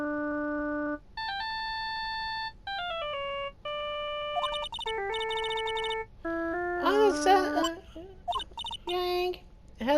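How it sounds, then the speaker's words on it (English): A creepy cell phone ringtone from the Phoenix Wright: Ace Attorney video game plays as a sequence of stepped electronic tones, then shifts into a busier, warbling synthetic melody. It is clear and fills the whole stretch. "I picked up my lost cell phone while on a walk with Destin. And a really creepy ringtone."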